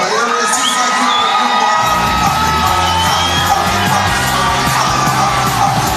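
A loud home crowd cheers, shouts and whoops for fighter Robert Washington at a Fury Fighting Championships MMA event. The roar is dense and continuous from start to finish.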